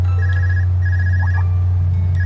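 Electronic phone ringtone from a handheld device in the Trails of Cold Steel video game, two short ringing bursts over a steady low hum.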